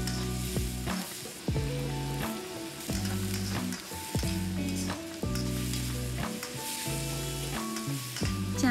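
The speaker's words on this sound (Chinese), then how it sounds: "继续翻炒一分钟。" Choy sum stir-fried in a wok with cured bacon, dried chili, ginger shreds, lard and chili sauce sizzles loudly and continuously, with repeated scraping tosses and a steady tonal background beneath.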